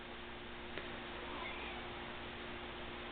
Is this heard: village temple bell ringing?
no